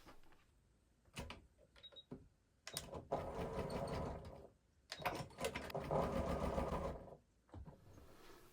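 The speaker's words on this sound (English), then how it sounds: "we're just going to take this to the sewing machine and sew this down with a basting stitch" A sewing machine runs a long basting stitch through trouser fabric in several whirring bursts of steady needle clatter, with short pauses and handling between them, close and fairly quiet.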